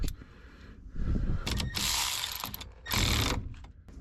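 Hand ratchet tightening 5/16 bolts during repairs on a Chevrolet 1500 truck: close, rapid clicking bursts of the pawl, with louder stretches of fast ratcheting separated by short pauses and handling noise.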